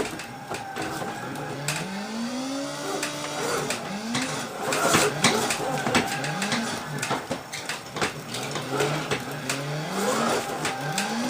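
Race car engine in a racing sim video game at Sweetwater Motorplex Park, repeatedly revving up through rising gear sweeps and dropping off, loud and continuous with squeals and clatter layered over it.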